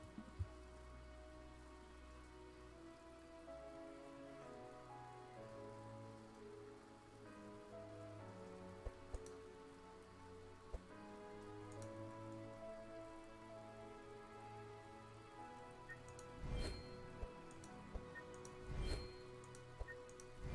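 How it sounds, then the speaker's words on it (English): Steady rain falls outside a window, a faint continuous patter with scattered ticks and drips, distant and uninterrupted, no voices. "It also occurred to me it might be raining"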